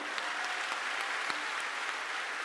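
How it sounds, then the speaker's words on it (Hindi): Sustained, dense applause from a large crowd at a religious gathering during the Maha Kumbh in Prayagraj, steady and even for the whole stretch with no voices on top. "जोरदार ताली ठोको इनके लिए"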